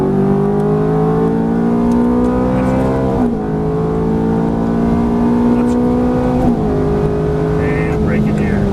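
A Ferrari F430 accelerates hard on a track, its engine note climbing repeatedly in pitch with brief dips at each upshift, loud and close from inside the car.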